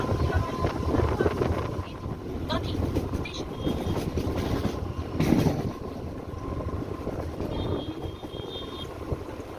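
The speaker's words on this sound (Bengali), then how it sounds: "আমাদের ট্রেন ছেড়ে দিল" A passenger train running on a coastal line in West Bengal just after pulling out of a station, a loud continuous rumble and rattle with wind buffeting the microphone and a few brief higher squeals.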